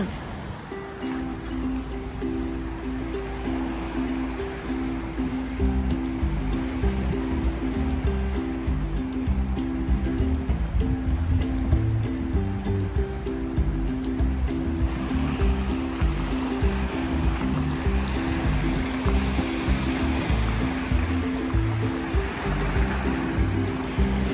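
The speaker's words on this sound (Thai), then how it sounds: "บรรยากาศหน้าหาดอุทยานเขาหลานย่า" Beach ambience at Khao Laem Ya National Park in Thailand, with a steady wash of waves rolling onto the shore, continuous and moderately loud, with a low droning tone running underneath.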